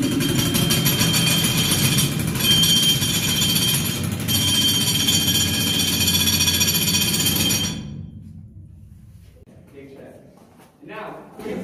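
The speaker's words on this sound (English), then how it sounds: "this drill solved the issue of all the dust created from drilling" A pneumatic rock drill runs in a Dahlonega, Georgia gold mine, water-fed to suppress dust, making a loud, close, continuous hammering rattle for about eight seconds before cutting off abruptly, followed by a brief quiet stretch.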